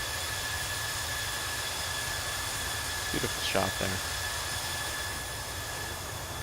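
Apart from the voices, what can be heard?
Airbus A321 jet engines after takeoff, Microsoft Flight Simulator 2020 video game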